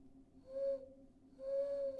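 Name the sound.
owl hooting in a visual novel game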